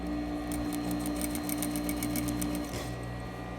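A sewing machine runs steadily, stitching a skirt waistband in the ditch. It is a continuous close, even motor hum with a rapid needle patter that eases off near the end.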